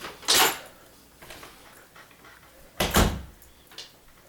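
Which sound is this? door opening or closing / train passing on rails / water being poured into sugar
door opening or closing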